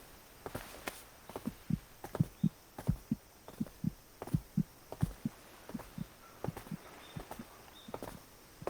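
A fast heartbeat sound effect thumps in steady low double pulses, close and fairly soft, over a faint background hum with no talking.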